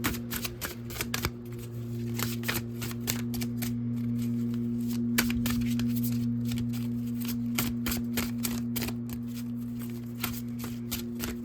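Tarot cards are shuffled by hand over a tarot reading, giving a close, steady patter of quick riffling flicks that runs throughout with a faint background hum and no talk.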